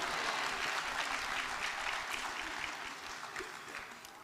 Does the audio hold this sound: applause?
yes